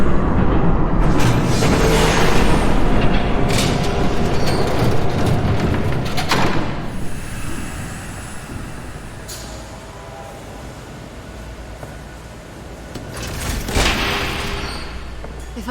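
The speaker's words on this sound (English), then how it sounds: "There's a train coming." In Batman: The Telltale Series, a train approaches with a loud, steady rumbling roar that eases off mid-way and then swells again, with occasional heavy thuds.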